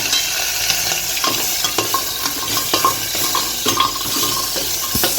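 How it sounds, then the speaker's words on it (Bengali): Chicken stew frying in a pan with a little water added, stirred: a loud, close, continuous sizzle with scraping and clacking from the spoon, alone. "চিকেনটাকে ভালো করে ফ্রাই করে নেব।"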